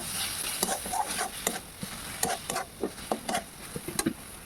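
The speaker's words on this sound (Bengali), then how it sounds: "তো কাশ্মীরি লঙ্কার গুঁড়ো দিয়ে কিছুক্ষণ নেড়ে নিচ্ছি" A spoon stirs Kashmiri chili powder through oil in a cooking pan for a soybean, potato and squash dish, making irregular scraping taps and soft sizzling ticks close by.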